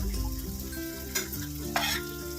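Prawn masala with spices fries and sizzles steadily in a pan while a spoon stirs it, two louder scrapes standing out near the end; no voices.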